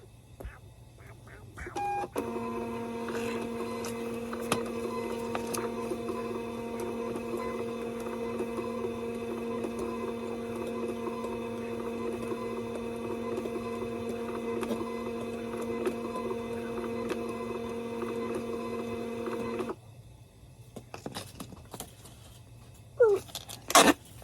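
A printer runs through a print job, a steady mechanical whirring hum lasting most of the clip before stopping abruptly, followed by a few faint clicks and brief chatter near the end.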